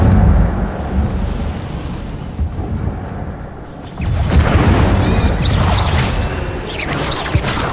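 An Incendio fire spell cast in the Hogwarts Legacy video game bursts in with a loud, sustained roaring whoosh. Rumbling layered effects follow, filling the second half, with no talking.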